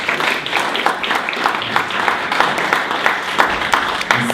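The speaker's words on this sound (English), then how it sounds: "let's end with a nice big round of applause for Meaghan McCann" A room full of people gives a sustained round of applause at the close of a talk at a web-design meetup, dense and steady clapping throughout at moderate loudness.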